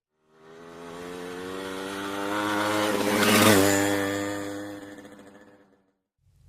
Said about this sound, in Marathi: मोटरसायकल.